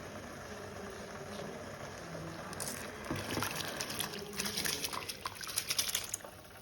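Rice being poured into boiling water in a clay pot for matka dum biryani, a soft rushing and bubbling that swells into louder splashing and gushing midway, then settles back to a low simmer.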